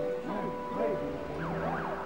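A wailing siren rises and falls in sweeping tones, moderately loud, with a steady hum and some background noise underneath.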